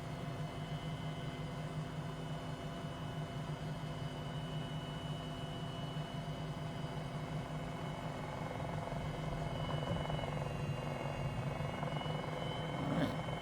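MD500E helicopter lifting off in the MSFS2020 flight simulator, a continuous droning turbine and rotor hum with a steady whine, holding level throughout and swelling slightly near the end, with no talk.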